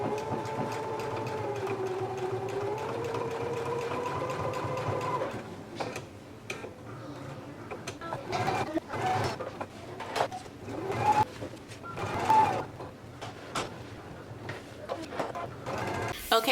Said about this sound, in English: I'm going to stitch really close to the sides and the lower edge of the pocket.